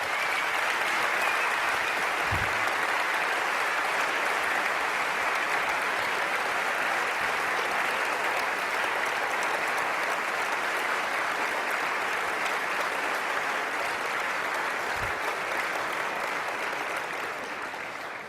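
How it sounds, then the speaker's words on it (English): A debate audience at a Bart Ehrman versus Daniel Wallace debate on the New Testament text applauds continuously for about eighteen seconds, a dense, loud, even wash of clapping that tapers slightly at the end. "Let's give both of them one more round of applause."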